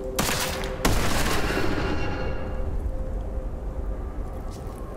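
Weapons fire in the first-person shooter Witchfire: a sharp gunshot cracks near the start, then a heavier blast follows, its tail ringing out into a sustained rumbling bed that slowly thins.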